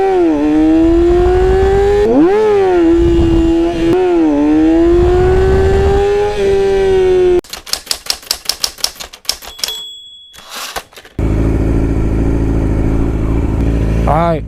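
Yamaha R6 motorcycle engine revs loudly during wheelie practice in first gear, the pitch climbing and falling in surges, then breaking into harsh, choppy wind-buffeted noise before the steady engine drone returns.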